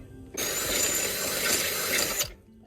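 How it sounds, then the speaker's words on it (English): A power drill whirs loudly for about two seconds in one steady burst, drilling out holes on a Honda Del Sol, starting and stopping abruptly, with quiet before and after. "I have to drill out a couple of these holes"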